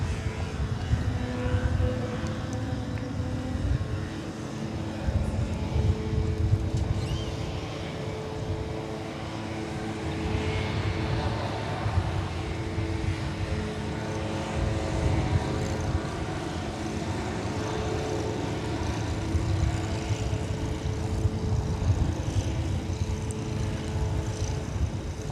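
Spirit Airlines Airbus A321 departing DFW for Cancun, Mexico, a steady broadband jet roar with low rumble holding at moderate level throughout, heard from a distance with no voices.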